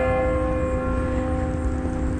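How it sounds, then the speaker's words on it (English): Sustained church bell tones hum steadily, layered and resonant, with a faint rumbling background underneath, at Forest Lawn Cemetery in Buffalo, New York. "Listen to the church bells they have."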